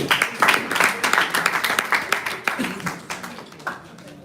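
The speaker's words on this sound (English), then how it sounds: "Can you clap for Shalom, please?" An audience at a graduation ceremony clapping steadily throughout, a dense patter of hands with a few louder claps standing out, fading slightly toward the end.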